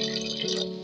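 Water poured into a pot of chickpeas for a pori and chana breakfast dish, a brief, steady trickling pour heard close up and alone.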